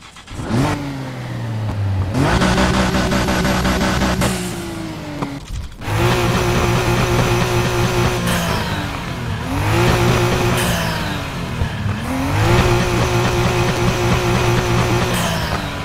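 A 1993 Nissan Skyline GT-R V-Spec R32 in a racing game revs hard and loud, its engine climbing through repeated rising sweeps with short breaks between pulls, close and continuous with no talk.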